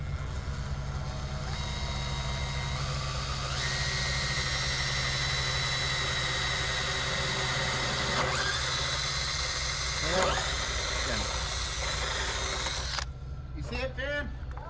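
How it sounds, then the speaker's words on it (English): A drill whines steadily while holes are bored through a boat hull for underwater lights, a continuous motor drone with shifts in pitch, then cutting off abruptly near the end under nearby talk. "We're drilling holes and getting it done."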